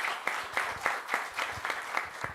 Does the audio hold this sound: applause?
yes